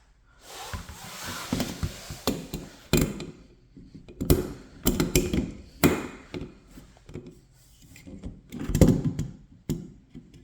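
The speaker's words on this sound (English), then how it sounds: "So now I'm gonna fasten those screws in this gap." Screws on a GE top-freezer refrigerator door handle being fastened with an Allen wrench: a string of close metallic taps, clicks and scraping bursts at an uneven rhythm, with no talking.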